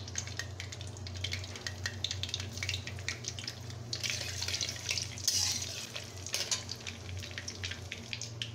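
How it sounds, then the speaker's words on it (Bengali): Whole cumin seeds dropped into hot oil, a continuous close crackling sizzle with a steady hiss and a low hum underneath, swelling briefly midway, with no talking. "এখন আমি প্রথমত আস্ত জিরা দিয়ে দিচ্ছি 1 চামচ পরিমাণ"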